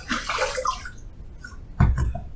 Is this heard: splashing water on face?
yes